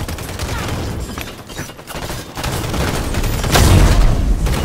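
Grenade blasts and gunfire fill a Halo battle, with a dense rattle of shots and booms and a louder, heavier explosion near the end over constant loud game noise.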